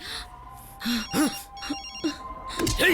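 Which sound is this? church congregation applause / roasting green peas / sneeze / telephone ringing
telephone ringing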